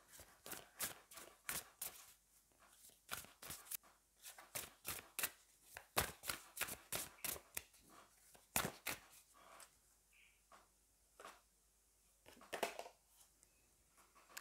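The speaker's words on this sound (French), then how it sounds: "Je vais vous prendre une autre carte." Tarot cards are drawn and handled on a table in a series of quiet, close slaps, flicks and rustles, some in quick bursts with short pauses between.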